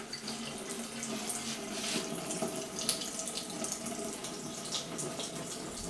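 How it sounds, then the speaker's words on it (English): Water running steadily and continuously out of pipes on a small building extension, a close, even rushing splash like a tap or pipe draining, with no talking. "The water's just running out the pipes above."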